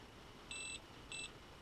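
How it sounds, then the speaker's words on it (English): A Parkside PAAS 20-Li A1 cordless 20V garden pruner gives two short, identical electronic beeps about half a second apart, clear tones over a quiet background. "Again, you will hear a beep"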